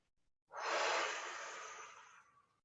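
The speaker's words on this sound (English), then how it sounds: "do some noisy breathing so you see what I mean" One long, audible breath rushes out, airy and close, swelling quickly then tapering slowly to silence.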